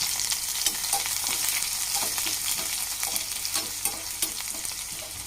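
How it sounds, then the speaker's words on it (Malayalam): Chopped shallots sautéing in oil for a sambar tempering, a constant bright sizzle with rhythmic stirring scrapes layered on top, near and steady. "ഇതും ഒന്ന് നമുക്ക് വഴറ്റിയെടുക്കാം"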